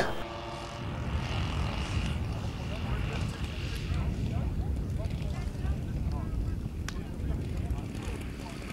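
Propeller engine drone of a Messerschmitt 110 aircraft flying at the La Ferté-Alais air meeting, a steady, fairly loud roar throughout with a busy outdoor crowd and talk faintly beneath.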